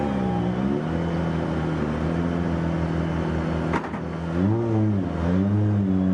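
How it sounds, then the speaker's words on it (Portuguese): A Dacia rally car pulls in at a Dakar Rally stage finish, its engine droning and then revving in rising and falling sweeps, moderately close, with a brief knock midway and no talk over it. "chega o primeiro carro Dacia"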